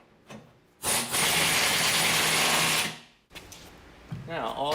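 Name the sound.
tightening a nut on a tractor loader hydraulic line kit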